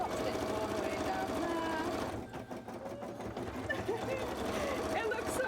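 A sewing machine hums in a rapid steady run while topstitching a cosplay piece, pausing briefly midway before resuming, with a person talking over the machine.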